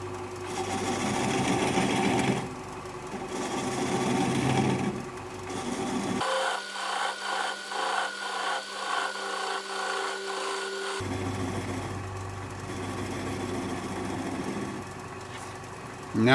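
A wood lathe turns a black cherry bowl while a 3/8 inch swept back bowl gouge cuts it, making a continuous rough scraping hiss with a rhythmic pulsing section in the middle.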